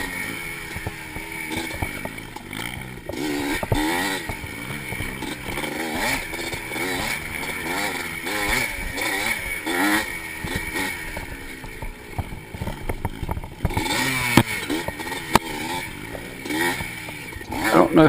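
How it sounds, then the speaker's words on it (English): A 1985 Yamaha IT 200 two-stroke racing motorcycle in a vintage cross-country race at Barber revs and rises and falls in pitch continuously, loud and close, with buzzy harmonics throughout. "I don't know if Chris thought I was revving the motor up for him to move over"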